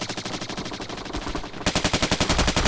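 Rapid automatic gunfire from the online shooter Bullet Run, a dense rattling burst that turns louder and harsher halfway through, with steady evenly spaced shots close up and no talking.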